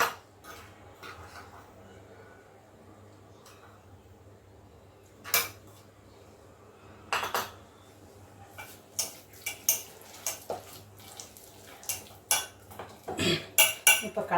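Spoon clinks and scrapes against a bowl while spice masala is mixed for seer fish fry, sparse at first and then a quick run of sharp metallic taps and stirring scrapes, close and alone with no voices.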